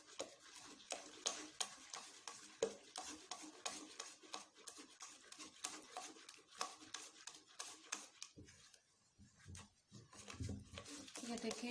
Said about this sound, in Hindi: यहाँ पे आके थोड़ा तेज चम्मच चलाना पड़ेगा।